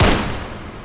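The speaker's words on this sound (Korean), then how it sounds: "저 아래 로비 쪽에서 또 한 방의 총소리가 들렸다" A single gunshot sound effect: one loud, sharp crack at the very start, then a long rolling echo that fades slowly over about a second, heard on its own.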